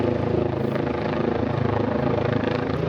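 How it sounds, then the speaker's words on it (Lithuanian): Rescue helicopter taking off near a closed road in Italy, its rotor throbbing loudly and steadily with a dense low pulse that holds without a break. "sraigtasparnis pakilęs"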